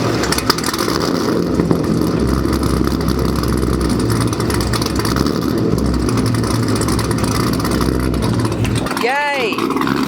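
A car with a broken gearbox part that grinds into third gear cranks and runs, its engine a steady, loud, rumbling drone throughout, with a brief sharp rise near the end as it catches.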